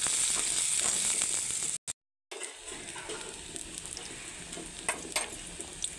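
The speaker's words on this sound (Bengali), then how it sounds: "সোয়াবিনগুলো ভালো করে লাল লাল করে ভেজে নেব" Soybean chunks fry in a pan with turmeric and salt, a dense crackling sizzle with stirring scrapes, briefly cut out by a moment of silence before resuming.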